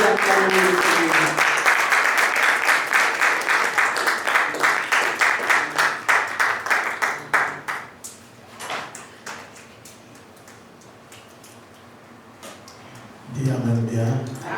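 A church congregation at a sermon seminar in Belgium claps in a loud, steady, rhythmic burst that gradually thins out and fades, then voices rise again near the end.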